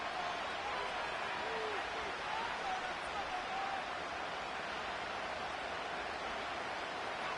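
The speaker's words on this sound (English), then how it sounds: "This crowd turning up the decibel level" Stadium crowd in Madden 24, a dense, even roar of many voices that holds steady and fairly quiet, with no clear claps or breaks standing out.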